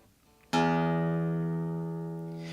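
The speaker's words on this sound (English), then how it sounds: "So the sixth string is going to be called the low E." A guitar's low E sixth string is plucked once, a deep open note ringing out cleanly and slowly fading, close and alone.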